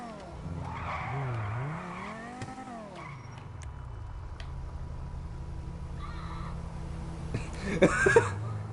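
Infernus sports car in GTA Online, its engine note swooping up and down with tire squeals and skids, followed by a steady lower drone and a few sharp bursts near the end, with some voice sounds.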